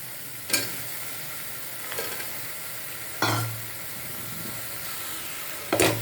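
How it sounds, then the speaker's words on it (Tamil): Mutton bones with turmeric are stirred in a pot: four sharp scraping clatters at irregular intervals over a steady low sizzling hiss, close and moderately loud, with no talking. "எலும்பு போட்டு கொஞ்சம் மிக்ஸ் பண்ணிக்கோங்க"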